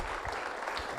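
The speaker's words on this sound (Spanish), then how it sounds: "apláudale ahí con toda su fuerza" A church congregation applauds vigorously, a thick continuous roar of many hands clapping together with a faint crowd murmur, loud and unbroken throughout the short moment.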